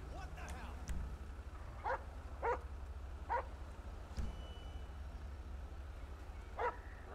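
Police K9 dog in the game GTA with LSPDFR police mods gives several separate short yelps and barks spaced across the clip, moderately clear over a steady low engine-like rumble.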